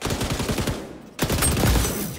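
An M249 machine gun fires sustained automatic bursts in XDefiant, loud and close, with a brief gap before the rapid fire starts again.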